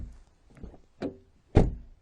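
The rear door of a 2015 Citroën C5 2.0 BlueHDI swings shut: a few soft clicks and a light knock lead into one solid, deep thunk as the door closes.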